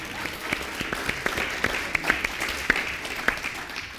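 Audience applause at a speech reception in honour of Professor David Nutt, a steady wash of many hands clapping with scattered sharper claps throughout, moderately loud and without talk.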